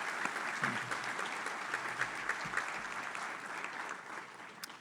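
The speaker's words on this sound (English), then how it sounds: "Let's please have a round of applause for all of our sponsors." A room full of people at a business breakfast claps for the event sponsors, a sustained, evenly spread wash of clapping with a few sharper individual claps standing out near the front.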